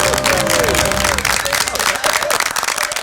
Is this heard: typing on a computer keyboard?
no